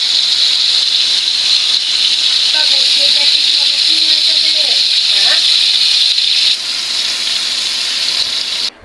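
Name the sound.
fish frying on a gas stove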